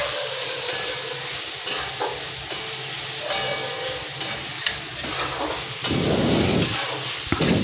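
A pea and potato curry is sautéed in a pan, a spoon scraping the pan in a regular stirring rhythm over a constant close sizzle, with a louder burst of frying near the end.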